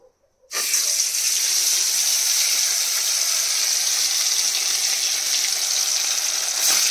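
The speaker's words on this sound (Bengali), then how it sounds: "তেল গরম হয়ে গেছে, কড়াইয়ে মাছ দেব।" Fish dropped into hot oil in a wok sets off a sudden loud sizzle that holds as a steady, bright, hissing roar, with a faint crackle near the end.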